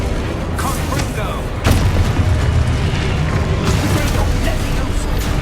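A Confringo spell explosion in the Hogwarts Legacy video game goes off as a heavy, rumbling boom with a sharp burst, set over a dense wash of game noise.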